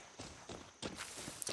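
Horse hooves clip-clop at a walk in the video game Far Cry 6, a faint, steady series of soft steps with no talking.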